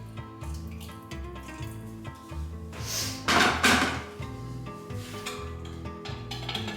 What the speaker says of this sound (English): I'm just going to add a little bit more water to that.